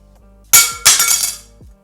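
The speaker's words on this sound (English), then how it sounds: "it's titanium, so I'm gonna drop it on my desk" A titanium card clatters onto a desk, a sharp metallic impact with a quick bouncing rattle that rings out and fades within a second.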